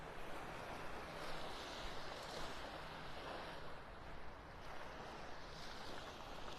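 Steady wash of surf and wind noise along a Gulf beach at Delnor-Wiggins in North Naples, Florida, with a boat churning through the pass nearby, a continuous loud rumble with no talking.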